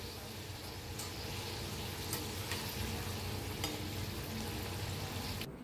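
Jaggery and peanut karanji deep-frying in hot oil, a steady close bubbling sizzle with a few light clicks of stirring, continuous for several seconds with no talk.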